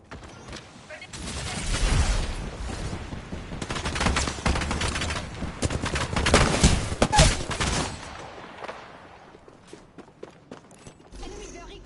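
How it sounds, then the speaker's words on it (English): Gunfire in Apex Legends, dense volleys of rapid shots mixed with mechanical clanks and rattles, rising and falling in intensity over several seconds and then tapering off, with a voice speaking at points. "Enemy fire."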